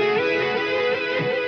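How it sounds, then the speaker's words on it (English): Distorted electric guitar played through a Digitech RP1 multi-effects unit, a thick, sustained, buzzing tone with chorus and echo coloring, loud and continuous throughout with no talking. "the distortion's pretty pleasing for a unit like this"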